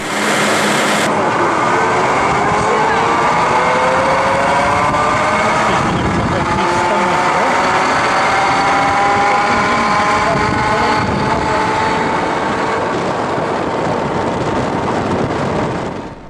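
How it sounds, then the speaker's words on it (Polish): A steady, loud truck engine powering a tarabita cable car in Baños drones continuously throughout, a heavy rumbling with a faint whine layered on top. "Ten rodzaj kolejki, nazywany tu tarabita, napędza silnik samochodu ciężarowego"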